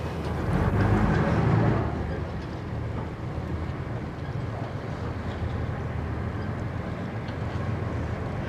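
An arriving boat closes in on a pier, giving a steady broadband rumble of engine and water with wind buffeting the microphone, loudest in the first two seconds, then holding an even level.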